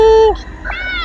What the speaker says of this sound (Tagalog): So ito yung pusa rito na tropa ko.